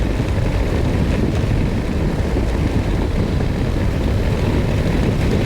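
Steady, loud roar of wind buffeting a motorcycle helmet at speed on a 2024 Harley-Davidson Road Glide, a constant broadband rush with no talking.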